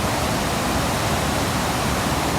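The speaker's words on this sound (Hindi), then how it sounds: "पानी इतना धड़ाधड़ आ रहा है" Water gushes down a mountain valley on the Bashu Valley hiking trail near Skardu, a steady, dense roar that stays loud and unbroken throughout with no voices.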